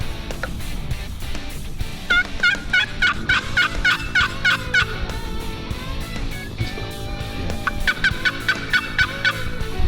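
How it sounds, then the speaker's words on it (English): A wild turkey gobbles in repeated loud bursts from a roost about 150 yards off during a spring morning hunt, the calls carrying clearly over quiet woodland. "He's gobbling his head off this morning."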